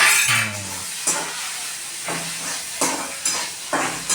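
Pasta tossed with pasta sauce in a pan, heard as a soft sizzle under repeated spoon scrapes and light clinks against the pan, several stirring strokes spaced about a second apart.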